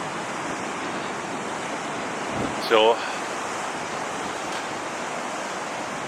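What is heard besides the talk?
stormy sea waves breaking at Hendon Beach, Sunderland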